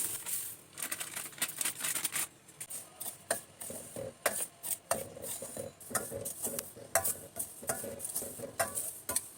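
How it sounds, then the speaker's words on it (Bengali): About a cup of dry semolina is stirred in a pan, producing rapid scraping and tapping spoon strokes in an uneven rhythm, fairly close and quiet, with no talking. "আমি একটু আন্দাজ করে 1 কাপের মতো সুজি ভেজে নিচ্ছি একটু।"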